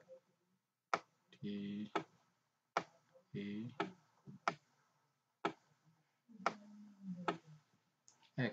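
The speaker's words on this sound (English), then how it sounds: "to permanently lock alpha, click shift alpha" Button presses on a Casio fx-9750GII graphing calculator give about ten sharp, close clicks in an irregular rhythm, with a voice talking between several of the presses.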